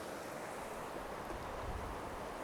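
Bear Creek rushes along a rocky bed on the Pacific Crest Trail, a steady, dense roar of flowing water close by with no talking.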